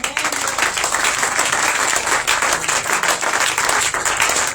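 A church congregation applauds and cheers in praise during a worship service, dense and steady clapping filling the room with crowd noise throughout.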